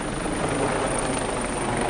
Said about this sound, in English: There's a helicopter overhead now.